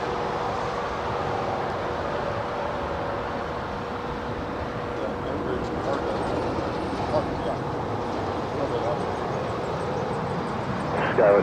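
Jet airliner taking off from runway 25 right at LAX, a steady broad engine roar with a sustained tone, heard from a distance with voices talking over it.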